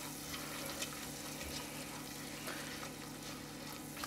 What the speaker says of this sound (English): I'm going to keep stirring this